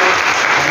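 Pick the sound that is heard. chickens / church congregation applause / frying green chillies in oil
church congregation applause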